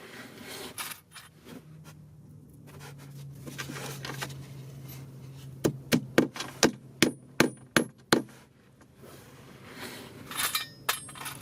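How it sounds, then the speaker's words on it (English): A hammer taps screws into wood in a quick series of about ten sharp, even knocks, preceded by a few scattered clinks and handling noises in a quiet room. "We're just tapping those in place for now"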